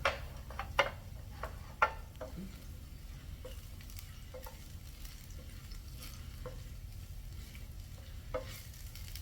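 Vegetables and garlic fry softly in a pan, a faint continuous sizzle broken by scattered sharp clicks and taps of a utensil stirring, close by and quiet.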